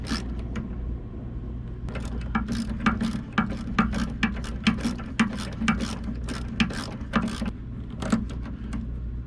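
A hand ratchet loosening a grounding screw on a car during a tow package wiring install, giving fast, crisp clicking in bursts of repeated strokes, close and distinct over a low background hum.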